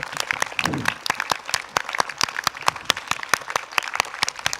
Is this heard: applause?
yes